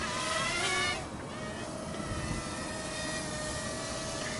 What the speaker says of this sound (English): The rotor is rolling now, and we're going to fly up.